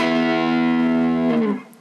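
A heavily distorted electric guitar chord from the outro of a song rings out loudly for about a second and a half, then is choked off and fades quickly.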